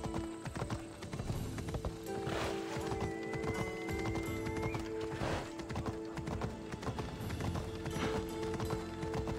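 Horse hooves clip-clopping at a steady rhythm while riding in the video game Assassin's Creed Odyssey, with occasional whinnies and game ambience, fairly loud and continuous throughout.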